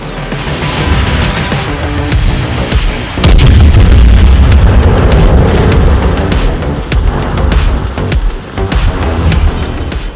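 Main guns of the Tier 7 German battleship Gneisenau firing in the World of Warships video game: loud, close booms rolling into heavy rumble, with a bigger blast near the middle and scattered further reports.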